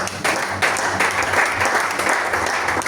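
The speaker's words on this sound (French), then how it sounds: "Acclamons le roi des rois." Church congregation clapping and cheering in acclaim during a prayer service, a dense, loud burst of applause filling the whole moment.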